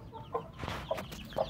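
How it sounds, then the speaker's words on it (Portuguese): Free-range hens cluck in short bursts with soft chick peeps around them, close and fairly quiet, several quick calls in under two seconds. "Cheio de pintinho."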